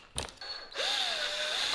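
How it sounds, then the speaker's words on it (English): A power drill with a Milwaukee bit spins up and bores into the handlebar grips of a 2021 KTM 500 EXC motorcycle, a short click followed by a steady, close, high whine. "I'm gonna need to drill out these grips."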